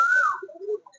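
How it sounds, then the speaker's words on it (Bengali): A short, soft cooing call from a Lakka pigeon, a single low murmuring coo close by in a quiet space. "অনেক সুন্দর কবুতর।"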